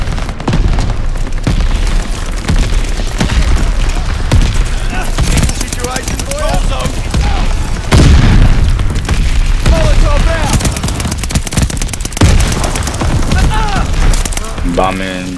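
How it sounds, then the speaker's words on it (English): A mortar barrage in a first-person shooter video game, with loud, repeated booming blasts and bursts of gunfire in an irregular rhythm, while players talk over the combat. "Allies calling a mortar barrage."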